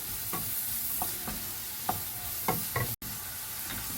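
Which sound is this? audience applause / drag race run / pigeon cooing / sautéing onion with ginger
sautéing onion with ginger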